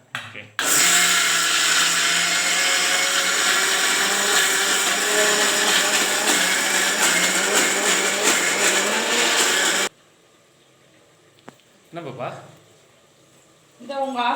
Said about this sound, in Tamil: பூண்டு மிளகாய் ஜீரகம் சோம்போட இந்த வந்து மாவு அரைக்க போறேன்